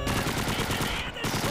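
Rapid gunfire in Call of Duty 2, dense automatic bursts that go on almost without a break, loud and close, with a short dip near the end.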